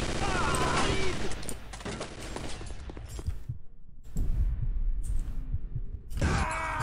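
Bursts of gunfire in the video game Chaser, loud rapid shots in clusters with brief quiet gaps, battle noise throughout.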